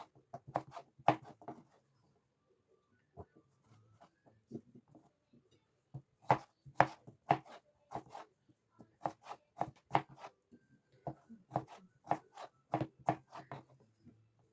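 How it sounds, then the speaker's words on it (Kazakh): Knife chopping potatoes into cubes on a board, sharp close taps arriving in quick irregular bursts separated by short pauses. "Енді картошкамызды да кубик етіп ұсақтап турап аламыз."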